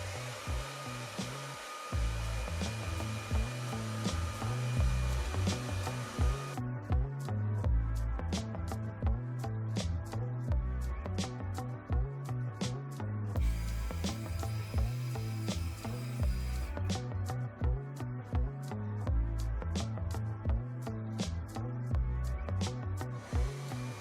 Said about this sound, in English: So with my hair dryer, I'm going to use the tension method to stretch out my hair a little bit